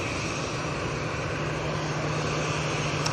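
Constant loud roar of a British Airways plane passing overhead at Manchester Airport, a broad steady engine rumble with a low hum and no voices.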